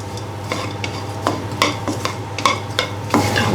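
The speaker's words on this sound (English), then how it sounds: "just put in the pan until the color turn to yellow and you can smell" Ingredients for Miang Kham sauce being roasted and stirred in a pan, a soft sizzle under repeated scraping strokes of a utensil, fairly loud and close, no talk.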